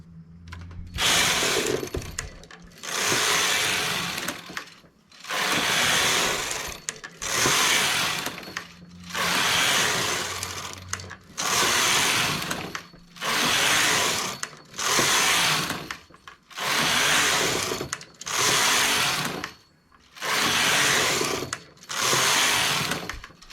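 Knitting machine carriage sweeping back and forth across rows of a simple vest, a loud mechanical clatter and whir repeating in about ten even passes, each roughly two seconds long with brief pauses between.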